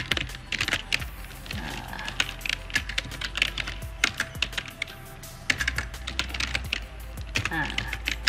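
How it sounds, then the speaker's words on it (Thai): Someone types on a computer keyboard. Rapid, close key clicks continue steadily throughout, with soft irregular taps and a faint background hum. "ลองพิมพ์ดูก็ได้นะคะ"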